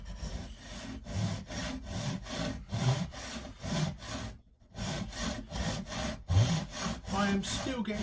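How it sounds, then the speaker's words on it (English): Japanese pull saw cutting wood, a steady rhythm of rasping strokes repeating roughly every half second, close and clear, with a brief pause midway. "I've got to get used to that it's pull. It's a pull saw."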